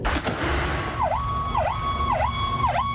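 A siren wails in repeated dipping sweeps, about four cycles, over a rumbling background of traffic noise from convoys during a national strike in Cotacachi, Imbabura, Ecuador.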